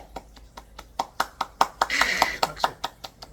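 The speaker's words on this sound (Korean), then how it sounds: "여러분들 미리 승리를 위해서 박수" Congregation at a church worship service clapping hands together in a quick, uneven burst of sharp claps, with a denser stretch of overlapping applause midway, close and moderately loud.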